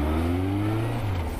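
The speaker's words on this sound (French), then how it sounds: "j'ai d'abord passé la vitesse inférieure et ensuite j'ai mis le coup de gaz" A car engine rises in a short throttle blip after a downshift, a loud, close, steady growl whose pitch climbs slightly then eases, heard alone without talk.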